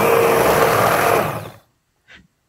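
A corn hand blender whirs steadily through biscuit batter for about a second and a half, loud and close, then cuts out to silence before a brief faint knock.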